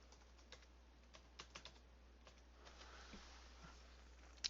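Fingers tap on a computer keyboard in scattered, irregular keystrokes that are quiet and close against a low background hum. A sharper cluster of clicks comes at the very end.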